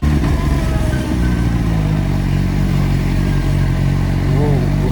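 A CFmoto Voom 500SR motorcycle with an inline-four engine runs steadily and loudly close by, its tone rising and falling briefly near the end, with a voice speaking over it at times.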